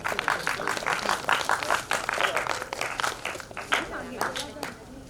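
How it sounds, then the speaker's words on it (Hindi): Audience applause at a teaching and learning workshop on homemade toys, with dense clapping running steadily for about five seconds and voices mixed in beneath it. "एक बार जोरदार तालियां बजाएंगे"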